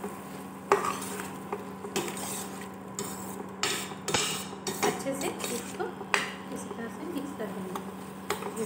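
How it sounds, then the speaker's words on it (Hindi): A spoon stirs pumpkin curry with coriander, turmeric and garam masala in a pan, scraping and clinking in irregular strokes over a faint sizzle, close and fairly quiet. "अब इसको हम चला देंगे।"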